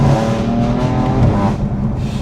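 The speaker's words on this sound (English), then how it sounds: "so it gives like a nice little auto blip" A BMW F82 M4 engine roars close and loud with a throttle blip on a downshift, its revs rising and falling in a continuous burble.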